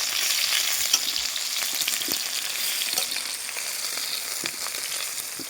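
Potatoes sizzle steadily in a hot pan of oil, a dense, even crackle with a few small pops and scrapes, close and continuous, with no voices.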